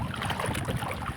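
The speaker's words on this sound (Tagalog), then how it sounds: "Lumaki ng mga hangin, ang alon mga idol" Strong wind buffeting a small fishing boat at sea, rough broadband gusting and splashing waves crowding the microphone, steady and close with no voices.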